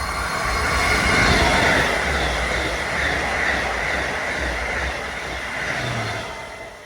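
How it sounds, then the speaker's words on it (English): An Amtrak NextGen Acela high-speed train passes through a curve at East Greenwich, Rhode Island, a loud sustained roar of rolling wheels and rushing air, with a faint wheel squeal near the end. "we catch a Next Gen Acela passing through a curve at our vantage point"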